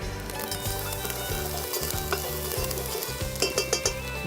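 Tomatoes, shallots, garlic and chili sizzle as they are stirred in a hot pan, a bright frying hiss with light scraping over rhythmic background music.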